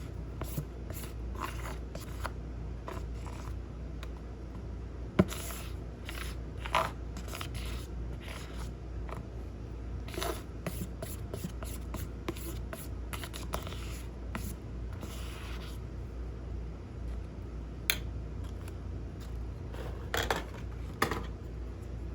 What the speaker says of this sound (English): So let me scrape this out until it gets on the pan.